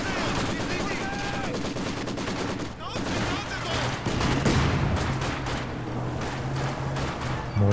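Sustained machine-gun fire from a Maxim gun laying down suppression in Company of Heroes 2, rattling bursts mixed with other battlefield gunfire and explosions, dense and continuous, with a commentator talking over it.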